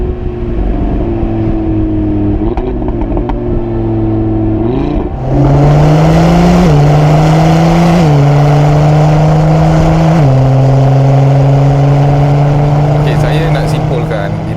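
An Aston Martin engine revs hard and loud up close, its tone climbing in steps as the gears shift, with someone talking throughout.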